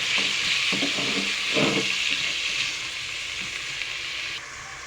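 Garlic, ginger and onion sizzle in a pan, a constant frying hiss with a few clattering stirs early on that gradually softens; no talking.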